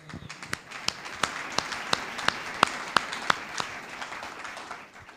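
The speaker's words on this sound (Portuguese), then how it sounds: "Quem pode dar uma salva de palmas à palavra de Deus?" Scattered, faint clapping from a small church congregation during a sermon on Ephesians, about a dozen sharp claps in a loose, fairly regular rhythm over quiet room noise.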